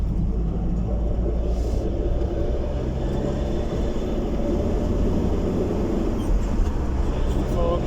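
An LDV Maxus van engine drones steadily while driving in third gear, a continuous low rumble with road noise inside the cab.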